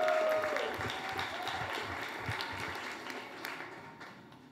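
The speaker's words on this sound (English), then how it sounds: "Let's give a giant round of applause for Tiffany Yates." A crowd applauding, a dense wash of clapping that starts loud and slowly thins out over a few seconds.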